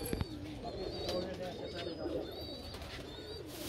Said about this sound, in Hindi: ये कबूतर है, ये कबूतर हमने जी पकड़ा